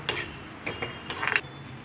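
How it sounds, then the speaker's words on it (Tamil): Grated coconut roasting in ghee in a kadai for ragi kozhukattai, a ladle scraping and clinking against the pan in short strokes with a faint sizzle beneath, close and alone. "துருவி வச்சுருக்க தேங்காயும் ஆட் பண்ணிக்கோங்க ஆட் பண்ணி நல்லா அதை வந்து வறுத்துக்கோங்க"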